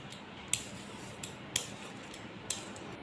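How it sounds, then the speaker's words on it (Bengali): Banana stem being cut for curry with a knife gives sharp, crisp chops at irregular intervals, about four clear strikes over a quiet background. "সকালে আগে সবজিগুলো কেটে নিচ্ছি তো এই যে থোড়ের তরকারি হবে আজকে"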